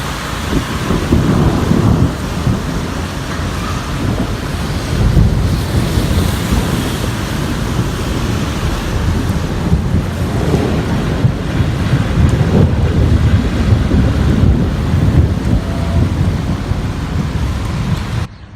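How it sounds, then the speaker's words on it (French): A loud nighttime thunderstorm over Amiens, with continuous heavy rain and wind buffeting the microphone, rumbling thunder rolling through almost without pause, no voices. "Un orage sinon qui était pas si mal que ça, surtout très bruyant"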